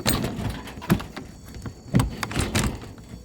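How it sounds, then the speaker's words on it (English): A chicken coop door is opened in a garden, giving a few separate knocks and thumps with some rattling, fairly close and with no speech. "open up their door so they can go in and lay eggs"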